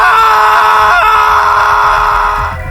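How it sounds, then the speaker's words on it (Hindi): A loud, sustained scream rises from a grave as a dramatic effect, a single anguished wail holding for nearly three seconds with a slight waver midway before tapering off, close and dominant. "फिर चीख दोबारा आई"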